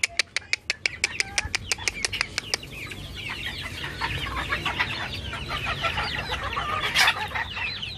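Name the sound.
chickens clucking while eating chopped purslane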